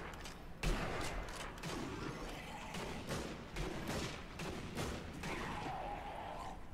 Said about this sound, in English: I just got a headshot with a pistol at that range